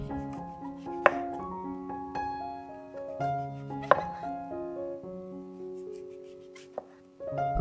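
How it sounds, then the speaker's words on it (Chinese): A knife slices fresh shiitake mushrooms on a board, giving a few soft, spaced cutting taps over gentle background music. "首先，将鲜香菇切片"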